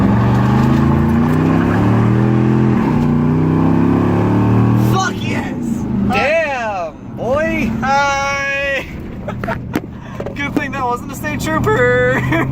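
A truck engine runs with a loud, low rumble, then revs hard and accelerates with rising, wavering engine tones and shifting pitch, heard close under excited talking and shouting.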